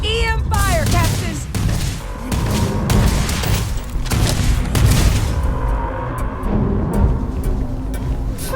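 EM weapon fire in a Starfield firefight: repeated loud zapping blasts and booms in an irregular volley, with sharp bursts layered over a constant rumble of combat.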